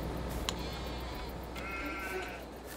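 Sheep in a Farming Simulator game bleating: two short bleats, one brief and one longer, over a steady hum of game background noise.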